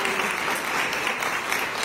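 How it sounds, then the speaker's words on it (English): Audience applause at a talk, a steady dense wash of clapping filling the whole moment, close and even in level with no pauses. "And so I just like to applaud him"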